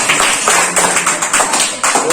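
A classroom of children clapping for a pupil who recited the oceans, a steady burst of close, busy hand claps with no talking over it.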